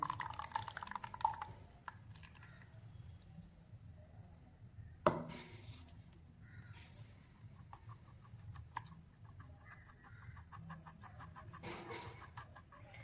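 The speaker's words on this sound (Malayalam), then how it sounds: "ഇനി ഇതിലേക്ക് നമുക്ക് ഒഴിച്ചു കൊടുക്കാം കേട്ടോ" Herbal hair dye liquid poured through an old strainer into a bowl gives faint, soft trickling and dripping, with occasional small clinks and a rooster or other fowl audible in the background.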